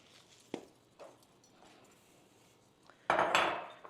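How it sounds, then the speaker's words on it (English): A spoon clinks against a bowl as brown sugar and quick oats are mixed. A few sparse, quiet taps come first, then a louder scraping, rustling stir near the end. "gonna mix all of the other ingredients together"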